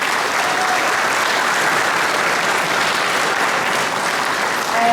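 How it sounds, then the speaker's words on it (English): Audience at a convention closing ceremony applauds the event organisers with steady, dense clapping that holds at an even loudness throughout, with no speech over it. "I'd like to give them a big round of applause"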